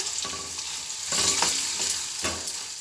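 Ingredients frying in a pan for rava pulihora, stirred with a few scraping strokes over a continuous close sizzle; no one speaks.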